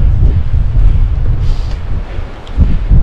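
Strong storm wind on a mountain buffets the microphone in heavy low rumbling gusts, loud and close, rising and falling over three seconds with no talk.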